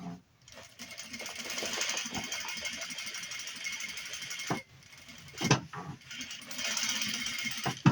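A sewing machine stitches piping onto the edge of a hat brim, its fast, steady mechanical whirr running close and loud with brief pauses and restarts, and a few light clicks from the work.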